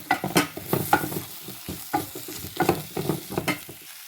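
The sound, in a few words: spice powder frying and stirred in oil for dried fish curry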